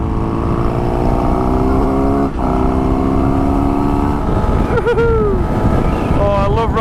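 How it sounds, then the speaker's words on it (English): A Honda CBR600RR motorcycle engine drones steadily while riding through city traffic, with heavy wind rush over the microphone, a rising rev near the end and brief whines from other vehicles. "Oh, I love riding this bike."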